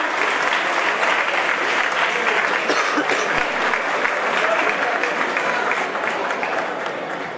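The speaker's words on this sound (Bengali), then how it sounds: "একটা জোরে করতালি দিয়ে আমরা এই মুহূর্তটাকে ফ্রেমে বন্দি করলাম" Loud audience applause at a freshers' welcome event at Surendranath Evening College, dense and continuous throughout before tapering a little at the close.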